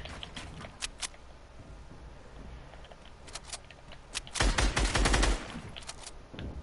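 Fortnite gunfire in a solo PS4 match: scattered sharp shots crack through a quiet stretch, then a dense, louder burst of rapid fire arrives before fading back to sporadic pops.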